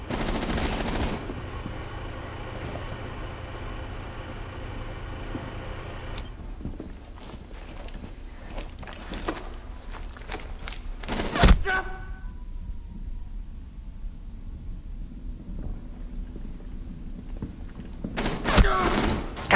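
Rapid bursts of automatic gunfire in Rainbow Six Siege on the Oregon map during a hostage match, with a few loud close shots and thuds, while players talk over the action.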